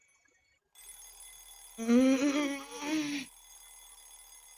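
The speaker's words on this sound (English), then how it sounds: "was woken up by the noise of an alarm clock" An alarm clock rings in a video game, a bright repeating tone with rippling harmonics that starts abruptly, holds for about a second and a half, then cuts off over a quiet background hum.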